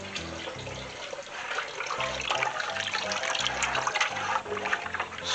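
Milk with citric acid stirred for homemade cheese gives a steady liquid swishing and sloshing, fairly close, with a soft low rhythmic churn repeating about once per second.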